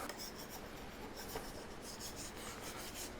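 A sharp, hard steel scraper drags across wood to strip off an old finish, giving soft, steady rasping strokes that are faint and close with no talk.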